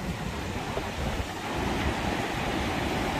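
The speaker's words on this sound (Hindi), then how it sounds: "सतलुज रिवर का पानी का तेज बहाव" Fast-flowing Sutlej river near its confluence with the Spiti river, a loud continuous roaring rush of water mixed with wind buffeting the microphone, swelling slightly partway through, no voices.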